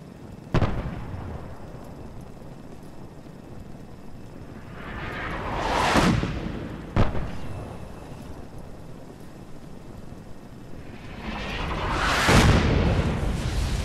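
Artillery shells bursting during a Fallout 4 bombardment: two sharp booms each followed by a swelling rumble, spaced several seconds apart at moderate distance, with no talk.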